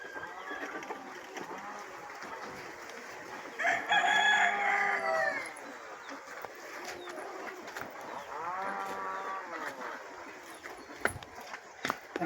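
Desi village chickens and a rooster in a brooding coop, birds sitting on eggs, give loud clucking and crowing bursts near the start and middle over steady rustling background noise.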